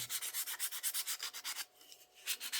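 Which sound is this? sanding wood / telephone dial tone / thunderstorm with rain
sanding wood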